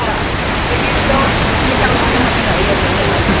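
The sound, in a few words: strong river current rushing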